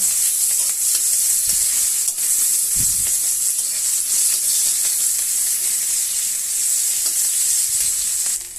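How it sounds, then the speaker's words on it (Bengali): Chopped onions frying in hot oil in a pan for a fish and taro curry, a loud continuous close hiss of sizzling with occasional soft thuds and scrapes of stirring, no voices. "এবার আমি পেঁয়াজ কুচিটা দিয়ে দিচ্ছি, ভালো করে নেড়ে নেব।"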